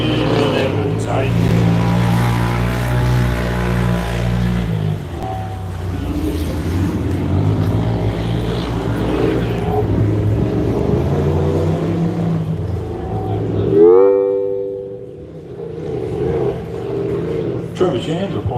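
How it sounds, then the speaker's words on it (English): Off-road desert race at the Loveday 400 with a Polaris side-by-side racer overtaking a production four-wheel drive: loud, continuous engine roar with rising and falling pitch and a sharp swelling pass near the end, under commentary voices. "the side-by-side competitor has passed the production four-wheel drive"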